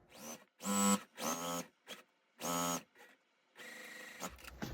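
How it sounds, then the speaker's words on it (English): A home sewing machine stitches the bottom right side of a quilt basket block in several short, loud bursts of whirring, each stopping and starting again, with the motor running close by. "Now I'm sewing on the bottom right side of the basket"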